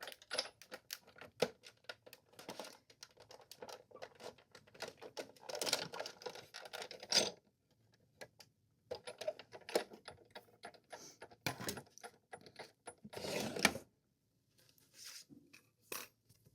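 A craft die-cutting machine feeds a card through in a single pass, producing a stretch of dense clattering and rattling with brief pauses between bursts, steady and close in a quiet room.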